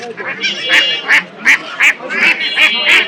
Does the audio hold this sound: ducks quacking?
yes